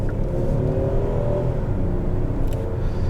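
A 2022 Hyundai Palisade Calligraphy's 3.8 engine with its 8-speed gearbox pulls steadily under acceleration, a smooth continuous hum and whir heard from inside the cabin with no other sounds over it.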